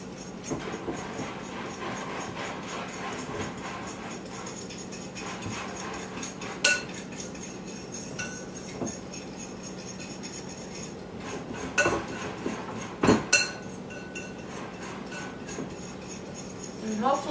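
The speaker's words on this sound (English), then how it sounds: "So I'm going to mix that first." Flour, baking powder and salt being stirred together in a mixing bowl in a home kitchen, a steady soft scraping and clinking of utensil against the bowl with a few sharper knocks, fairly quiet throughout.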